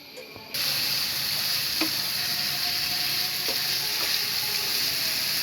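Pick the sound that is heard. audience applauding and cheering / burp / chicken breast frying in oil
chicken breast frying in oil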